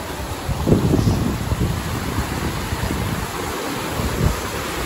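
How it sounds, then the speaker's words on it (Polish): A waterfall gives off a steady, broad rushing roar, heard from nearby outdoors with some wind buffeting the microphone and no talk. "Oho, tu jest wodospad."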